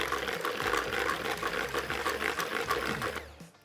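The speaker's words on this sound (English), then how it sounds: "So last little whisk there." Yorkshire pudding batter given a final quick whisk in a jug, a dense continuous rattling whir close up that stops abruptly near the end.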